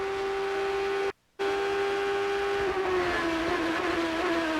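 A Champ Car race car at the 2007 Toyota Grand Prix of Long Beach runs with a steady, sustained engine drone heard onboard, briefly cutting out, then resuming as the pitch slowly drops under braking.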